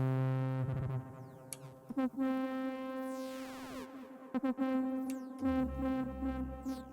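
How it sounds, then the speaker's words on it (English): Warbling, filtered synth tones with pitch sweeps, throbbing modulation and occasional sharp clicks, loud and steady, ending with a deep bass drone. "you can hear the effect pedals"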